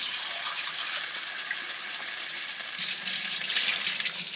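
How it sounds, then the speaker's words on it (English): Water from a can pours into a pan of simmering meatball tomato sauce, a steady broadband gush and sizzle running throughout at close range, growing slightly louder near the end. "And I'm going to add 1 can of water."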